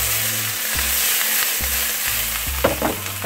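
Onions sautéing in hot oil for fried rice give a loud, continuous sizzle with rhythmic scraping and stirring strokes, close and without talk.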